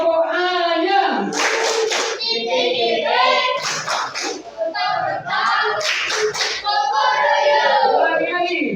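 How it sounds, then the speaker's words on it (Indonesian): Children perform the 'tepuk ayam' clapping chant, rhythmic group hand claps woven with a chanted, sing-song voice led close by. "Sebelumnya mari kita tepuk ayam dulu ya, biar kita semakin buka lagi."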